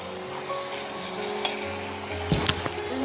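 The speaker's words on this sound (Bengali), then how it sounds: "জল দিয়ে এটাকে আমি আরেকটু 1 মিনিটের মতো একটু এটাকে ফুটিয়ে নেব।" Kasundi mixture simmering in a pan with a little water added, giving a steady close bubbling sizzle with a few brief spoon scrapes and clinks.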